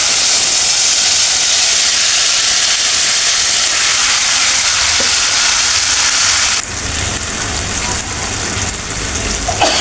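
Taro leaves (kochu shak) dropped into a hot pan give a loud, steady sizzle with broad hiss throughout, shifting in tone partway as the leaves settle, with no talking.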